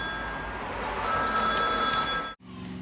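A telephone rings in a workshop beside a Craftsman LT1000 riding mower, bright steady electronic tones running for about two seconds before cutting off abruptly.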